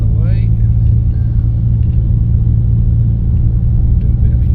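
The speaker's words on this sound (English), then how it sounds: "there's a car coming" A car passes on a road, a steady engine and tyre rumble close by, heard from inside an MG HS 2.0 waiting to make a U-turn, with someone talking over it.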